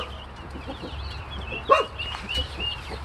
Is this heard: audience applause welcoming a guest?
no